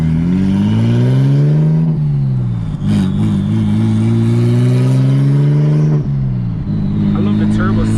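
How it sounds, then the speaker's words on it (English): A big-turbo BMW 335i engine revs hard in repeated pulls, loud and close, with a deep droning tone that rises and falls between shifts and a voice talking over it. "I love the turbo sound."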